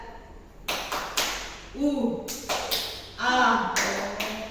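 A teacher leads the tepuk rimba clapping rhythm, sharp patterned hand claps in short groups, each set followed by brief chanted vocal calls.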